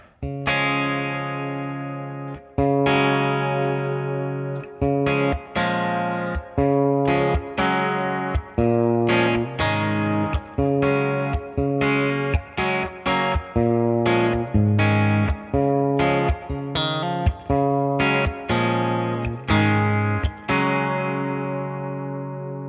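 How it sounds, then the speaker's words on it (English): Electric guitar through a Hungry Robot Stargazer dual-channel reverb pedal on its blue channel, a mild hall-like reverb, rings out loudly in a run of struck chords and notes, each decaying in a smooth tail before the next. "We'll switch to the blue setting, and this is a more mild hall-like reverb"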